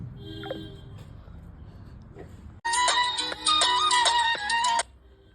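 An incoming WhatsApp call rings on a phone as a bright, repeating electronic melody, loud and close. It starts abruptly after quieter room sounds and runs for about two seconds before stopping.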